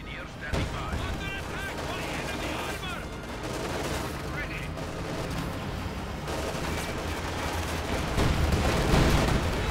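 In a Company of Heroes 2 1v1 match, infantry guns and Soviet IS-2 tanks trade fire, giving dense crackling volleys, rapid machine-gun bursts and heavy booms that build louder toward the end, with a commentator talking over it.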